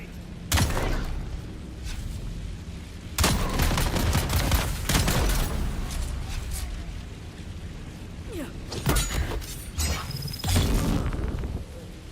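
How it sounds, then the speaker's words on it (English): Gunfire and a grenade blast in the survival game Dune Awakening: loud sharp bursts and booms recur every few seconds amid mechanical rattles and creaks, fairly close and dense. "Tossing grenade!"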